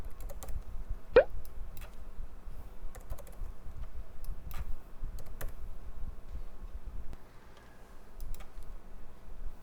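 Computer keyboard typing while entering annual class-hour figures into a school curriculum form, faint and sparse clicks over a low background hum, with a few sharper keystrokes and no voices.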